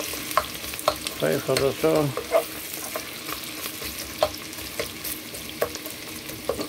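Stirring and frying in ghee in a pot, with a soft sizzle under scattered spoon scrapes and clinks, plus a brief burst of louder stirring noise; a voice speaks briefly.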